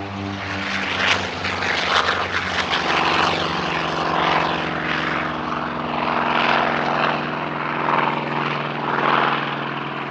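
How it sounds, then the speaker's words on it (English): An OV-10B Bronco twin-turboprop aircraft flies past at an airshow, its propellers giving a loud, steady droning hum with strong tonal harmonics that swell and fade slightly as it moves. "First up, the OV-10B Bronco of the Musée Européen de l'Aviation de Chasse de"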